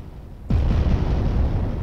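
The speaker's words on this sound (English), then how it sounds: "Then we've got the nuclear explosion." A nuclear explosion sound effect: a sudden deep boom erupts after a short quiet stretch, then rolls on as a loud, sustained rumbling roar that fills the rest of the clip.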